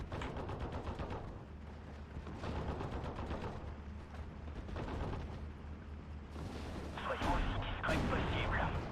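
Mortar artillery fire in the World War II strategy game Steel Division: Normandy 44 on Omaha, with dull booms and rumbling battle noise running throughout and someone talking over them.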